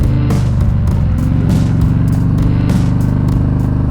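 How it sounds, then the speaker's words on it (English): An Indian Springfield motorcycle pulls hard from a standstill toward 60, its loud engine roaring up close with a throbbing, rising drone and rapid exhaust pulses. "I'm gonna do a quick 0 to 60 pull"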